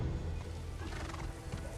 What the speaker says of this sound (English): Almost sounds like hooves.